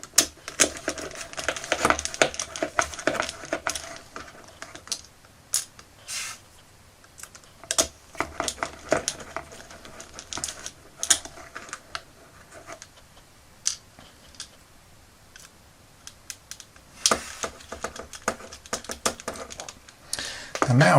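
Small screws are driven in by hand to hold together the torso of a Neo Henshin Cyborg toy, with close, irregular clicks and plastic rattles and scrapes in uneven bursts and brief pauses, no talking.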